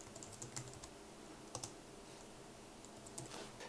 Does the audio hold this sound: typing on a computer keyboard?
yes